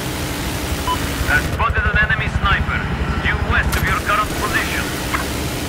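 A helicopter in the Battlefield 4 video game drones with a steady rotor and engine hum, while a voice talks over it through the middle.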